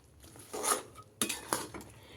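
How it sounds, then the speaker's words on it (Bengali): Spices being stirred into a sour-spicy chalta (elephant apple) pickle in a pan, heard as a few clinks and scrapes of a utensil against metal with short bursts of stirring and no talk. "তো মশলাটাকে এবার আমি ভালো করে বন্ধুরা মিশিয়ে দেব"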